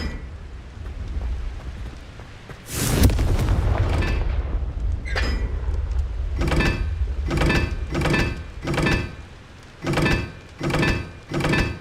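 A Confringo blasting spell in the video game Hogwarts Legacy, sounding as a sharp loud explosive burst followed by rumbling, then a run of rhythmic heavy thuds pulsing at regular intervals.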